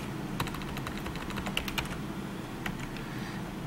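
Rapid typing on a computer keyboard while entering data into consignment software, with irregular bursts of crisp key clicks and a few louder taps, close and alone over a low steady hum.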